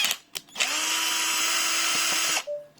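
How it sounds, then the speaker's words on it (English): A power drill backs screws out of a smart lock lever handle in one close, loud, steady high whine lasting about two seconds, with brief clicks before and after. "Take out the screws"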